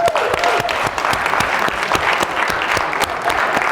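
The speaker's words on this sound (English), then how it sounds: "Okay, give them a big round of applause." Applause from an audience at a late-night talk show gameshow, many hands clapping steadily and close, with a faint voice briefly audible beneath the clapping.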